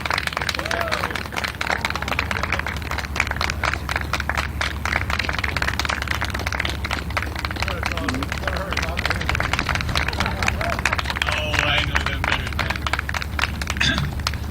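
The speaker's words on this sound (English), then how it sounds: "So keep that clapping going" An audience at an Election Day gathering in Toledo, Ohio keeps up steady rhythmic clapping, a dense, continuous patter of many hands at close range, with voices talking over it throughout.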